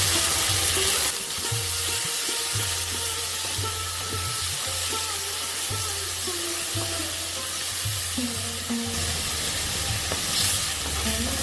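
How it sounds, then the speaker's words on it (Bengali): Chopped tomato and onions fry in a pan, a loud steady sizzle with repeated rhythmic scraping strokes of stirring throughout. "টমেটো কাঁচা গন্ধটা যতক্ষণ না যাবে ততক্ষণ নাড়াতে হবে"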